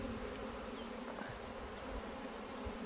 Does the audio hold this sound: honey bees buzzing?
yes